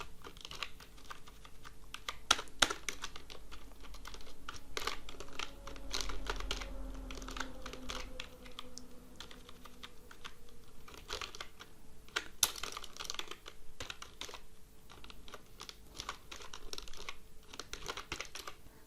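Typing on a computer keyboard while writing HTML list code for a dropdown menu, steady clusters of close, crisp key clicks with occasional louder strikes, no talking.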